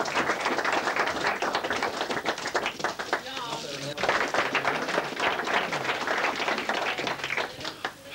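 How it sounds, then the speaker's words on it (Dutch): A crowd at a 1987 Friesland strongman contest claps loudly for strongman Wout Zijlstra in a dense, continuous round of applause, with someone talking over it. "een fantastisch applaus voor Wout Zijlstra"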